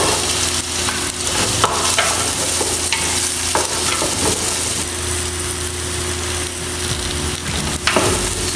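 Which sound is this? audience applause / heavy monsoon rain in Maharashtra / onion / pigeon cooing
onion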